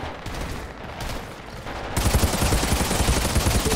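Rapid gunfire from a weapon in the shooter game Outriders, steady automatic bursts that grow louder and denser halfway through, close and continuous.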